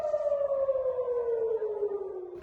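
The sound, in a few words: air raid warning sirens in Jerusalem and Tel Aviv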